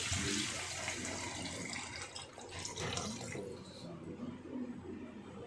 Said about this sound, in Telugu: వాటర్ అయితే పోసేసుకుందామండి.